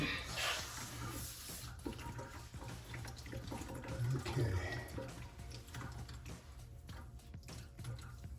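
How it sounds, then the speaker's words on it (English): Steady water rushing and gurgling down a bathroom sink drain, close by and moderately quiet, continuous throughout with no talking. "Water's still draining just fine."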